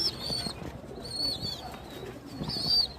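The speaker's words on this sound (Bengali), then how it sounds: "আমি আরও কিছু কবুতর দেখাচ্ছি আপনাদের" Pigeons cooing inside a pigeon house, soft repeated rolling coos rising every second or so, fairly close, over a low murmur of background noise.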